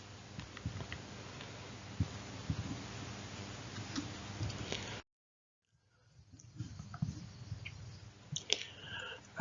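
Calculator keys are pressed by hand, making a scattered run of light, close clicks and taps, a short silent break, then a few more clicks, with no talking.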